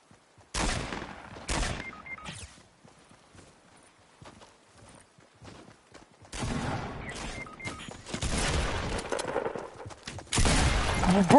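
Video game gunfire in Fortnite, several bursts of rapid shots, loud and close, separated by quieter gaps and growing denser toward the end.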